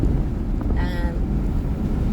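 Steady, heavy wind buffets the microphone throughout, a dense low rumble with a brief whistling tone rising partway through.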